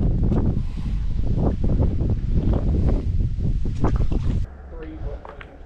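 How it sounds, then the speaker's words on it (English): Wind blowing outdoors at a fishing spot, a loud rough rumble gusting into the microphone for most of the clip before easing near the end. "a wind's blowing me pretty good down there"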